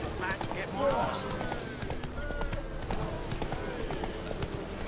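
A horse in The Witcher 3 gallops with rhythmic hoofbeats and game sound effects, a brief whinny, and someone speaking over the hooves.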